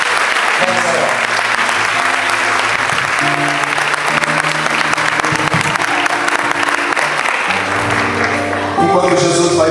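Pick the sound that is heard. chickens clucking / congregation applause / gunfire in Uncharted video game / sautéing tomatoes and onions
congregation applause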